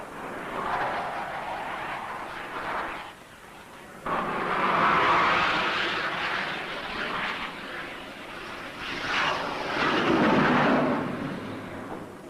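Phantom jet aboard the carrier HMS Ark Royal in 1974 throttles back while joining upwind, a loud broad roar that swells, dips, and surges again, heard at a distance without talk.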